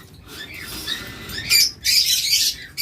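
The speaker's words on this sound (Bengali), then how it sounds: "এরপর এখানে রয়েছে আরেক জোড়া গ্রিন চিকনুর দেখুন" A pair of green cheek conures give a few sharp, raspy squawks in short bursts, close and fairly loud over a faint background hiss.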